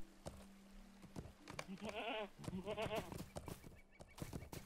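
A goat in the video game Lord of the Rings Online bleats in two wavering calls amid clicks and short game sounds, moderately faint.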